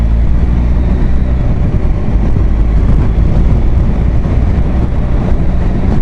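A vehicle engine rumbles steadily and loudly while pulling past a horse and rider on the road, a continuous broad roar with no pause and no voices.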